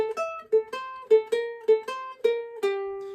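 A ukulele plucks about nine clear single notes in a quick, repeating rhythmic pattern, bright and close, played alone with no voice.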